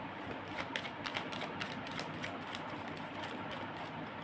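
Tarot cards are shuffled in a quiet room, producing a continuous soft riffling and flicking patter with small rhythmic taps throughout, heard alone without talk.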